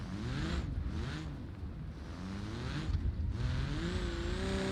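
Car engine revving hard in a driving video game, a sustained loud whine rising and dropping through gear changes, with a faint high tone over it near the end.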